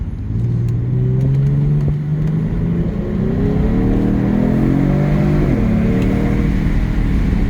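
A 2024 Genesis G70 accelerating from a stop, its engine note climbing smoothly through rising pitch with a shift partway, loud and steady from inside the car.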